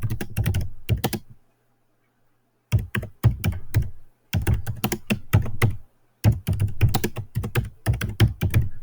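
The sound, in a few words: typing on a computer keyboard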